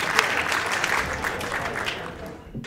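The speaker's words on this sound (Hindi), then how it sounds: "जोरदार तालियों से इन्हें आमंत्रित करिए।" An audience at a Hindi poetry gathering breaks into loud, close applause to welcome poet Ashok Nagar to the stage, a dense burst of clapping that tapers off near the end.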